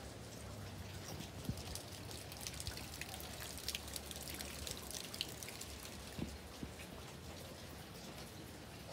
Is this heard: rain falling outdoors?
yes